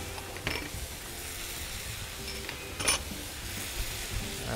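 Stir fry with ginger, garlic and scallion tossed with metal spatulas on a Traeger griddle: soft steady sizzle broken by a few sharp scraping clinks of the spatulas on the hot flat-top.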